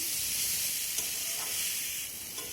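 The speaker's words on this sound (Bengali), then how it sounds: "আবারও আমি ভালো করে সবজিগুলোকে মশলার সঙ্গে কষিয়ে নেব।" Vegetables, potato and spiny gourd, stir-fried with spices in a pan, giving a loud continuous sizzle and hiss with faint scraping of stirring.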